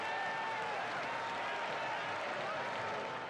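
A large crowd of green-and-white Coritiba football fans celebrating the Série B title produces a steady, dense roar of cheering and applause throughout, loud and unbroken.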